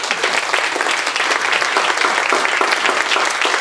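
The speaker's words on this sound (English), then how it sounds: "And you can applaud for that." A church congregation applauds, a dense and loud wash of many hands clapping at once that holds steadily throughout.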